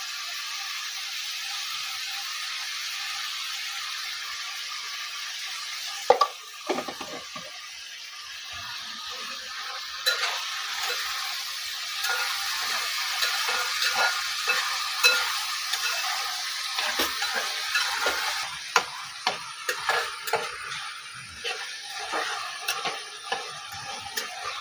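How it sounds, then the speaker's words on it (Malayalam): Raw banana cooks in oil without water in a Kerala village-style curry, giving a steady close sizzle and hiss with scattered stirring scrapes and taps growing busier toward the end. "നമ്മുടെ എണ്ണയ്ക്കകത്ത് ആ മൂപ്പിച്ചതിനകത്ത് കിടന്നാണ് ഈ സാധനം ഇത് വേവുന്നത്."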